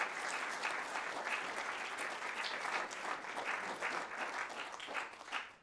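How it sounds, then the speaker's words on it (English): An audience gives a sustained round of applause, dense clapping that holds steady for several seconds before tapering at the end, with no talk over it. "Give Ben a bit of a round of applause for fielding them."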